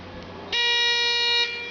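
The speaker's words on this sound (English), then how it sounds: "Buzzer is not ringing. Start on the buzzer, please." A buzzer sounds once, a steady electronic tone lasting about a second over faint background noise.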